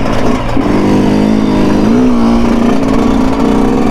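A Yamaha YZ125 two-stroke dirt bike engine screams at high revs while being ridden, loud and close, with the pitch dipping and climbing as the rider shifts and rolls the throttle.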